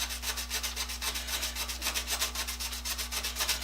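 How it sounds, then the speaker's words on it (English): A Scotch-Brite pad scrubs gunk off a tool steel saw blade in quick, even back-and-forth strokes, a close and fairly quiet rhythmic rasping over a steady low hum. "Got some serious gunk on this one, so I'm going to use a Scotch-Brite pad on it."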